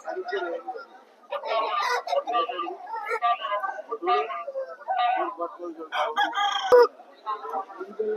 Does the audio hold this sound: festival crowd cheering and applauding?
no